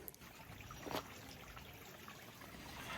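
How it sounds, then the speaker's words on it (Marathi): A mountain spring on the Sudhagad trek flows in a faint, steady trickle and wash of water that carries on evenly throughout, with no voices. "एक झरा आहे मस्त, तो मस्त वाहतो असा इथून."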